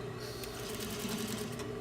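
A sewing machine runs a quick, continuous mechanical stitching rhythm as a curved collar stand is sewn to a shirt, close and clear, with no talk.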